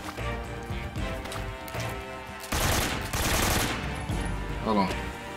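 Gunfire in the video game Metal Gear Solid 3, with loud bursts of automatic fire and shots through the clip, mixed with game music and effects, while a player talks over it.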